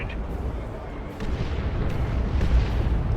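Hunter-killer missile fire in the real-time strategy game Dawn of War 2, heavy booming blasts and rumbling explosions in a dense, continuous battle din.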